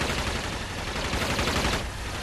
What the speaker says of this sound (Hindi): और गोलियों की आवाज से गूंजता पूरा इलाका।